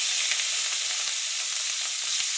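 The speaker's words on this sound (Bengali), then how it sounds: "আমি চিংড়ি মাছগুলোকে ভেজে নেব" Prawns coated in salt and turmeric fry in hot oil in a pan, giving a close, continuous sizzle dotted with sharp crackles and pops, with no voices.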